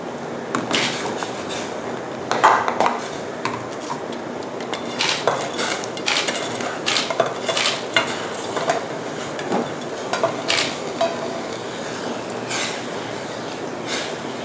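Fried egg with cha-om and fried snakehead fish going into a pot of Thai sour curry, with repeated clinks and clatters of utensils against metal over a steady bubbling background, close and fairly loud.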